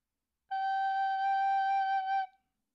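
A recorder sounds a single sustained G, fingered with the left thumb and first three fingers, held steady for under two seconds, clear and close with no talk.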